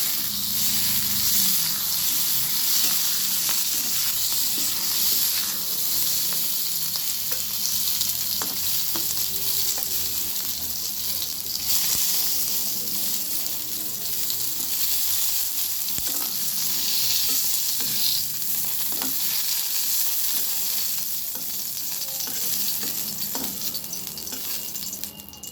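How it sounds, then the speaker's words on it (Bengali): Flat beans sizzle in hot oil in a pan while being cooked for a bean and potato dish. The frying is a loud, steady hiss that runs throughout, with faint stirring clicks and no talking. "শিমগুলো আমার ভাজা হয়ে গেছে"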